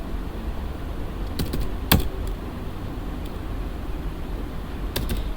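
A few sparse, sharp keystrokes land on a computer keyboard over a steady low hum, loud and close but irregular.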